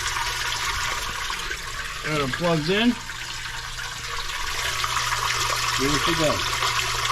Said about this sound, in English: Running water on the other side.